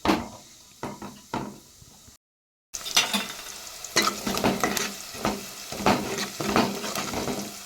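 Cumin and mustard seeds fry in a hot pan with a bright, crackling sizzle and some scraping, as if being stirred. A brief silent gap interrupts it before the frying resumes, louder and steady.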